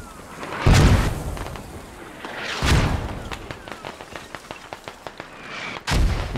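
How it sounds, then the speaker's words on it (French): Gunfire and artillery in the military shooter game Squad: three heavy booming blasts spaced a couple of seconds apart, with a burst of rapid, crackling shots between them, loud and close. "On me tire dessus là."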